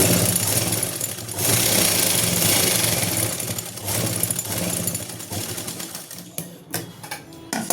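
Close, loud sewing machine stitching a salwar seam in bursts of fast rhythmic needle chatter, ending with short stop-start runs.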